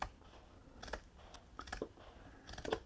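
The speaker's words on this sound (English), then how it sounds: "So I'm simply placing the scissors here and cutting along as far as I can go." Scissors cut along fabric shelf liner in a series of faint, close snipping clicks, irregular and unaccompanied by talk.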